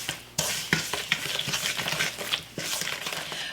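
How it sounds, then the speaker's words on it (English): White sugar mixture being stirred until creamy in a bowl, a busy scraping and clinking of a utensil against the dish with irregular taps, close and fairly loud, no voices. "just mix this together until it's nice and creamy"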